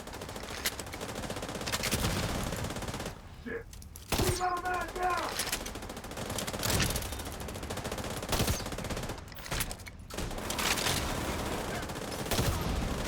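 Bursts of rapid automatic gunfire in a video game, loud and close, come in several volleys separated by brief lulls, with chimes and effects in between.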